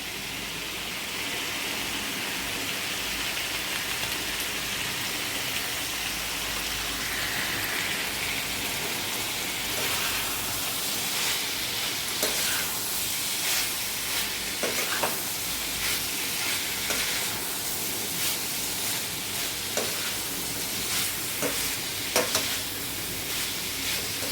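Cauliflower bhaji sizzling in a pan while stirred with Maggi masala, a steady hissing fry like light rain throughout, with scattered spoon scrapes growing more frequent later, close and fairly loud, no talk.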